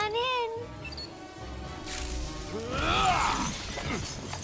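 Glass is punched and shatters in Batman: Arkham Asylum, a sharp crash bursting out around the middle and scattering into fragments, with game music and voices underneath.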